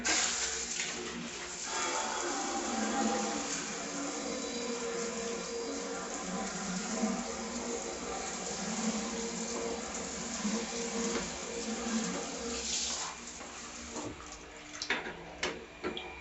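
Water runs and splashes steadily over a metal drum cymbal being rinsed after cleaning, a continuous close-up hiss and patter with a few brighter clinks near the end.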